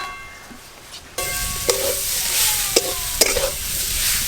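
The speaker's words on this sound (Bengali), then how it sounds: "আলু দিয়ে শাক ভাজা হয়ে গেল, ঢেলে নেব।" Susni greens and potatoes stir-fried in a pan, a loud steady sizzle with repeated sharp scrapes and knocks of the spatula against the pan, heard alone.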